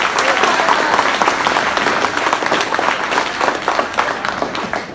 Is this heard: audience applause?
yes